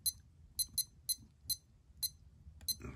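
A series of short, high electronic beeps in uneven pairs and singles, sharp and thin, from a Casio F-108 digital watch alarm, with a quiet rumbling background.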